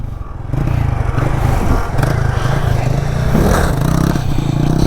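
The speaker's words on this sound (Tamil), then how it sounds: "இப்போ தான் வண்டியே நல்லா ஃப்ரீயாக ஏறுது, கரெக்டாக இருக்குது." A motorcycle rising into a wheelie in third gear, its engine droning loud and steady close by, holding a strong continuous growl with slight surges in revs.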